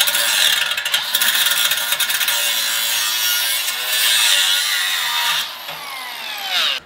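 An angle grinder cuts away a welded metal piece under a truck, giving a loud, close, continuous high-pitched grinding whine that wavers as pressure changes and then drops off near the end.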